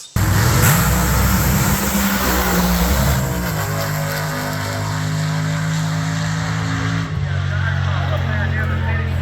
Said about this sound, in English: This was a grudge race against this funny car,